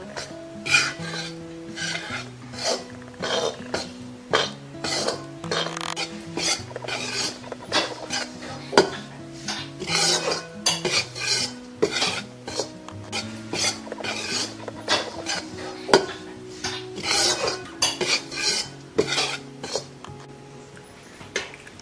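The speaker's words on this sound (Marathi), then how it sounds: "बेसन आणि कणिक आपल्याला मंद आचेवरती छान खरपूस भाजून घ्यायचंय." Gram flour and wheat flour dry-roasting on low heat in a pan for laddoos, stirred with a utensil in steady repeated scraping strokes and clinks against the pan, close and alone with faint sizzle.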